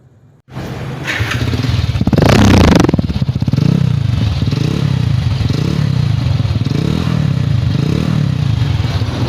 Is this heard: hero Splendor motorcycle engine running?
yes